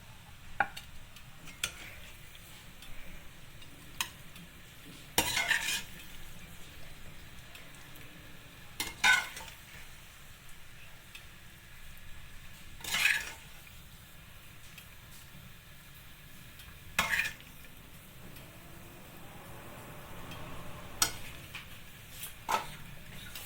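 Chicken pasta being stirred and scooped out of a pan, with a handful of sharp utensil scrapes and clinks standing out over a faint, steady background hum.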